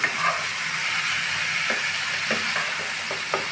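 Fish sizzling and frying with vegetables in a hot pan for a curry, a steady broadband crackle and hiss that runs throughout, with a few faint stirring clicks near the end.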